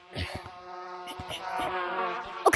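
Buzzing bees in the Gorilla Tag virtual reality game, a wavering insect-like drone with tonal layers, broken by brief clicks and thumps and ending on a sharp burst.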